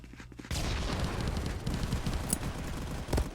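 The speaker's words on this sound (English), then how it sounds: "Throwing out frags over the maze wall." Frag grenades going off in the VR shooter Contractors, a dense run of loud booms and crackling blasts after a quiet start, with a few sharper bangs standing out near the end.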